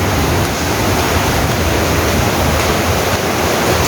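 A typhoon batters Taiwan with dense, steady roaring wind and heavy rain, a loud unbroken wash of noise close to the microphone with no voices.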